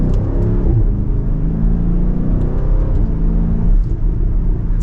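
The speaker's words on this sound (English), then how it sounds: "In sport mode, that exhaust gets much louder." A 2024 BMW Alpina XB7 in sport mode accelerates hard from second gear, its exhaust giving a loud, deep, continuous rumble that rises and holds through the run, close and alone.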